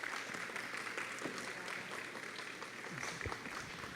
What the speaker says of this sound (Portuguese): Então vamos receber aqui com uma salva de palmas Samira Cardoso.